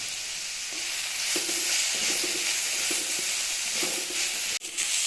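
Slit green chili and curry leaves sizzle steadily in hot oil for a Chettinad-style chicken dry roast, a dense close hiss with faint stirring taps and a brief dip near the end.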